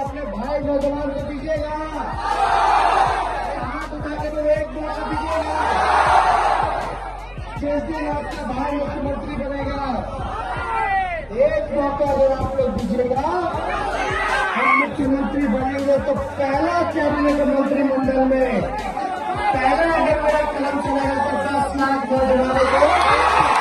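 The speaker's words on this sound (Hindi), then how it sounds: "नेताओं की रैलियों में भीड़ भी बढ़ती जा रही है" Large crowd at a political election rally in Bihar, a dense, loud, continuous hubbub of many voices chattering with occasional shouts and cheers rising over the babble.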